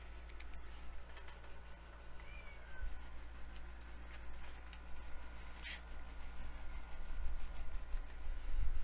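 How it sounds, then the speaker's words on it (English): A pet cat meows faintly a couple of times in a quiet indoor room, short, distant-sounding cries over a low steady background hum. "Cat's going through separation anxiety, Brett."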